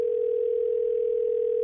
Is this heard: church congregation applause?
no